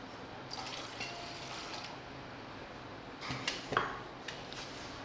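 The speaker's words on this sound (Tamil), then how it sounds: "2 கிளாஸ் தண்ணி சேர்த்துக்குங்க." Water being poured into a container in two short bursts of splashing and trickling, fairly quiet and close, with soft drips and a faint clink between pours.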